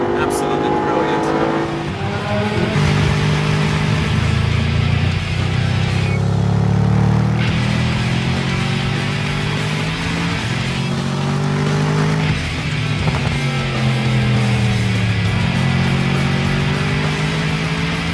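A loud, roaring Mercedes SLS AMG GT engine revving and surging continuously on the Nürburgring track, with shifting pitch as it accelerates, while someone talks over it.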